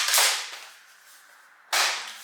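Two sharp, snappy shots ring out from a Nerf pulse rifle toy, each a loud burst that decays quickly, separated by a brief quiet gap.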